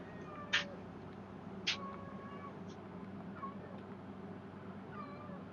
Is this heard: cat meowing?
yes